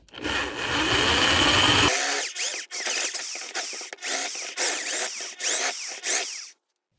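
A power drill whines steadily while boring into metal on a Patton 20-inch fan, then runs in a series of short bursts with brief pauses before stopping abruptly.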